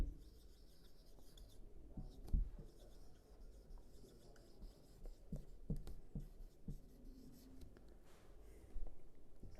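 Writing on a board during a class 9 physics lecture, quiet scratchy strokes and occasional taps in short bursts against a faint room background, with no clear speech.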